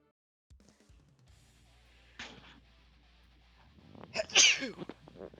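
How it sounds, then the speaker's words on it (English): A single loud sneeze erupts near the end, following a quieter sharp intake and some faint background sounds from a fighting-game stream; no speech is heard around it. "I've been sneezing like a mug."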